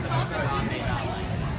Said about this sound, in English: it's a little bit crowded today, it seems like